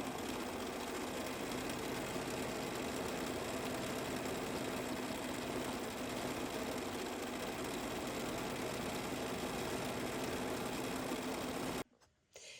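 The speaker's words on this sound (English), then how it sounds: "now it's time to stitch our little hedgehogs" A sewing machine stitches hedgehog pieces for a Kimberbell quilt, running in a steady, dense, continuous mechanical whir for about twelve seconds before stopping abruptly.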